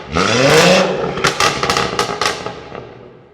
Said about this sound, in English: you cannot beat the sound of a catless B58